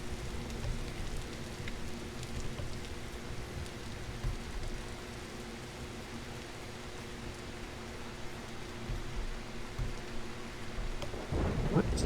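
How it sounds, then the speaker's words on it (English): Thunderstorm in the video game Vintage Story: steady rain hiss with low rolling thunder rumbles throughout, moderately quiet and continuous, no talk. "there's thunder?"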